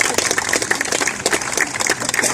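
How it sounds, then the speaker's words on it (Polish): Audience clapping for young reportage authors at a book launch event, a dense, steady burst of applause from a roomful of people, close and even throughout. "O oklaski bym poprosiła dla młodych autorów"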